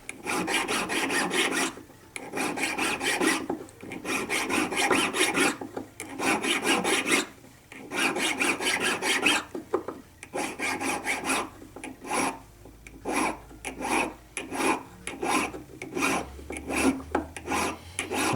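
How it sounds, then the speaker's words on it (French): A hand file of the Audane brand rasps along a precious metal rod in repeated bursts of back-and-forth strokes, close and fairly loud, with brief pauses between sets and no talking. "Toujours cette lime d'Audane que j'aime beaucoup."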